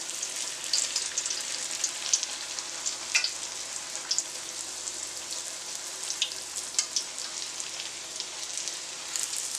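Bara dough frying in deep hot oil, a steady close crackling sizzle with dense bubbling pops and no voices.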